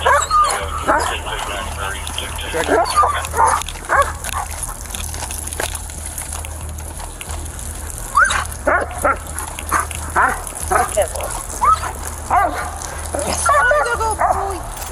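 A police dog barks and yips repeatedly at close range, with whimpers between bursts, while people talk over it.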